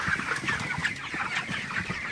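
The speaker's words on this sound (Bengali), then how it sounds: "তো আজকে কিন্তু ব্রয়লার মুরগিগুলার প্রায় 32 দিন বয়স হয়ে গেছে" Broiler chickens about thirty-two days old, near two kilograms each, cluck and chatter continuously on a farm, a dense close flock of overlapping calls with no voices.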